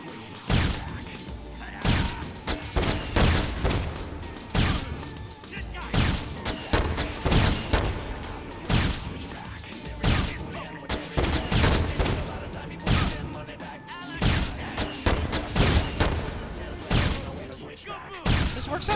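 Gunfire in Dead Rising 2 rattles out in repeated bursts and single cracks, loud and close, with a voice talking intermittently between the shots.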